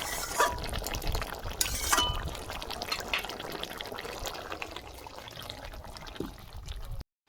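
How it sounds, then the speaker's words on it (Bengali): Thick vegetarian papad dalna curry pours from a kadai into a serving dish with a wet, sloppy flow, and a couple of clear clinks of metal against the vessel near the start. "পাঁপড়ের ডালনা আমি ঢেলে নিচ্ছি।"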